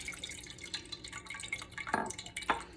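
Blended eggplant mixture for baigan bharta poured through a strainer, giving a soft liquid trickle with two brief splashy pours near the end; no talking.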